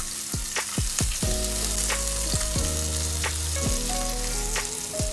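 Pan-seared salmon with garlic sizzles loudly and steadily in a hot pan, with a few sharp metallic clinks and ringing taps of a utensil against the pan scattered over the frying.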